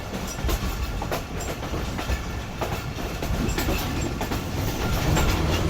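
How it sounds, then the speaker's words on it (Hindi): The Hazara Express rolls toward a junction, its steady rumble and clickety-clack of wheels over rail joints loud and continuous from inside the train, with no voices. "finally train TIG road junction पर अप्रोच बना रही है"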